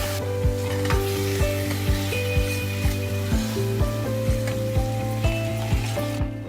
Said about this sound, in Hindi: प्याज, हरी मिर्ची और लहसुन को हम थोड़ा भूनने देंगे